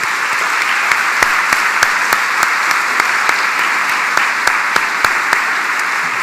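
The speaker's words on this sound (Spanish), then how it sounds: "Dale un aplauso al Señor por su palabra." A church congregation claps in sustained, dense applause, loud and even throughout, with sharper individual claps standing out in an irregular rhythm.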